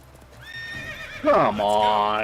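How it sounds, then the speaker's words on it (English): Horse in The Witcher 3: Wild Hunt gives a loud, close whinny that rises and then breaks into a rough snorting neigh, with hoof clip-clop underneath. "I hate horse riding in this game."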